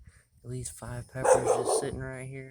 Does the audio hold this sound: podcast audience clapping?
no